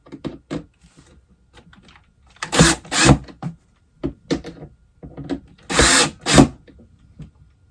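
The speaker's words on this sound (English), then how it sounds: "I'm going to go ahead and tighten the screw." Power drill driving a screw into an IKEA Kallax shelf during assembly, in short sharp bursts of whirring with quiet gaps and clicks between them.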